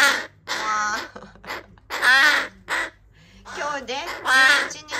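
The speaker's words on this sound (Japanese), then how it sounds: "カラス3兄弟ね。" Three young rescued crows caw up close, harsh, nasal calls coming in repeated bursts with short pauses between them.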